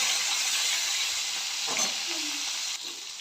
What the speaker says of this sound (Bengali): এবার পটলটাকে একটু ভেজে নেব।